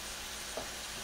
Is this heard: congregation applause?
no